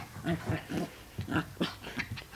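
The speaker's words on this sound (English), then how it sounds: "And now the Bimbo is aggressive and big and tall." A puppy growls and yaps in short bursts, a run of close, rough little barks and grunts with brief gaps between them.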